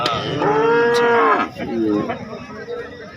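A cow moos loudly and close by at a cattle market in Sangola, one long low call followed by a shorter second one.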